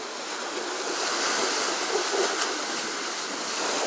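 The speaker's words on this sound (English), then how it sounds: "Uh-oh, big wave." Ocean surf breaks against rocks at Virginia Beach, a constant close roar of churning water with a slight swell near the middle and no speech.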